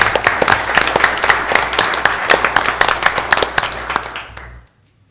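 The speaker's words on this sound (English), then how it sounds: "Let's give them a round of applause." An audience at a live-streamed event applauds in a dense, lively burst of many hands for about four and a half seconds before it cuts off into silence.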